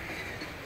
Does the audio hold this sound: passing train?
yes